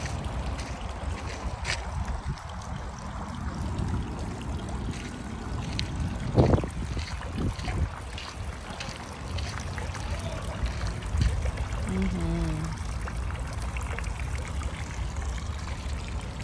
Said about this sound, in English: Sometimes the sounds of the elements are just really soothing. The sound of water.